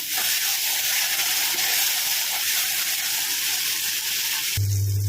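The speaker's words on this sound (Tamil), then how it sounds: "தக்காளி சேர்த்துருவாங்க நல்லா வதங்கட்டாங்க" Tomatoes sauté in a pan for a Tamil palak keerai kootu, giving a loud, steady close sizzle and hiss that runs nearly the whole clip before cutting off abruptly at the end.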